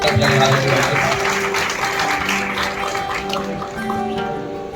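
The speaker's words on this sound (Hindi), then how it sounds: "एक बार जोरदार ताली करें" A crowd at a community society event in Gwalior applauds loudly and continuously for several seconds, with a tonal hum and some voices underneath.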